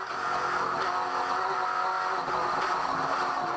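NZV8 race cars scream at high revs around Pukekohe circuit in 2008, a loud, sustained engine howl near the rev limit in top gear, with no voices over it.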